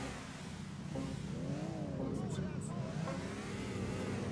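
Car engine in GTA 4 humming steadily with rising and falling revs, a continuous mid-loud drone with game ambience and people talking over it.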